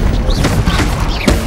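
A Bombarda spell in Hogwarts Legacy blasts loudly up close amid dense crashing and booming combat noise, with a few sharp impacts and short whooshing magical sweeps layered over a continuous rumble.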